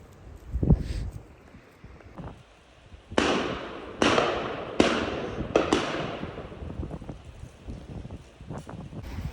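Shotgun shots at a driven game shoot outdoors, four sharp cracks in fairly quick succession, moderately distant, with wind noise and faint movement around them.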